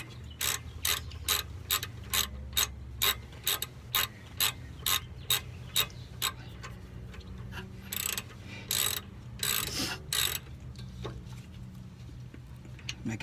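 Ratchet wrench tightening the brake caliper bolts on a car during a brake pad change, a run of quick sharp clicks close by, then a few slower, louder bursts of clicking after a short pause.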